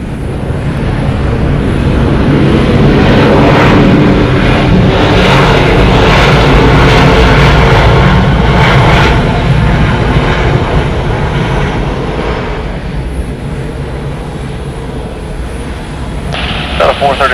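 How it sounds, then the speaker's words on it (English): A four-year-old Delta Airlines Airbus A321 arriving from New York at Atlanta's airport makes a loud, rumbling jet roar that swells to a peak and slowly fades, ending with a few sharp noises. "Arriving here is going to be Delta Airlines Flight 433 coming in from New York"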